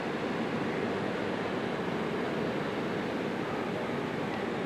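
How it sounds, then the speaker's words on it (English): Ocean surf at Daytona Beach, Florida gives a constant, dense, even roar of breaking waves with no distinct pauses or other sounds. "That's a big wave. Some nice waves."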